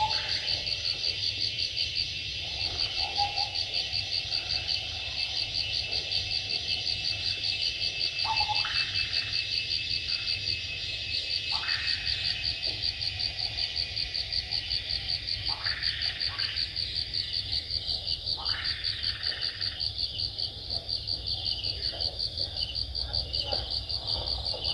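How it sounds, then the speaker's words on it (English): Crickets trill steadily throughout at Old Kent Estate in Coorg, while several birds call in short rising chirps scattered over the constant insect chorus. "at least five or six different birds. It's like literally music playing right throughout the day."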